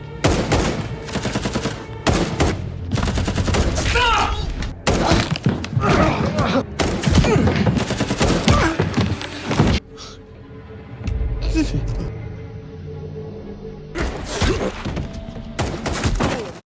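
Gunfire in an action film scene, sharp repeated shots and heavy thuds in bursts with breaks between them, mixed with dramatic music and effects and a voice speaking over the action.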